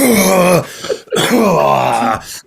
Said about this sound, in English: Before I start the show, I'm going to cough.